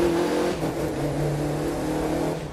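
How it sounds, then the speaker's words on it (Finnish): A car engine revs and roars steadily in the racing game The Crew 2, heard loud and close for a few seconds with a strong, sustained mid-pitched drone and no talking. "Konepelillä kuuluu moottori huomattavasti paremmin."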